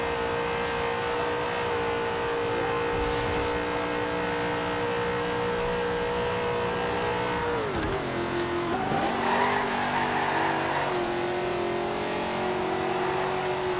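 A sports car racing in Forza Horizon 2, its engine droning loudly at high revs, then dipping sharply as it brakes or shifts, with tire scrubbing before it revs back up.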